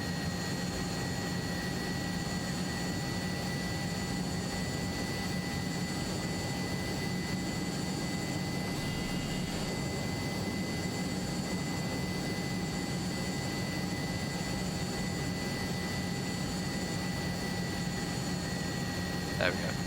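A Hawker Hunter jet in Microsoft Flight Simulator drones with a continuous, even engine roar and high whine at high thrust on approach, steady and unchanging throughout with no talk.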